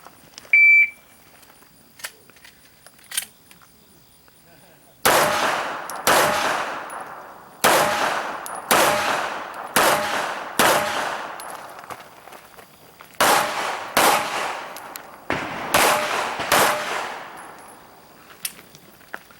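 Pistol shots from a shooter on an IDPA match stage at an outdoor rifle and pistol club, loud sharp cracks fired in quick bursts and pairs with short pauses between strings, opened by a start beep.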